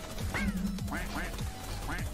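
Cartoonish duck quacks from flying ducks in the Roblox game Tower Defense Simulator, Spring Update 2022: several rising quack calls repeat about every half second over steady game music, with a person talking at times.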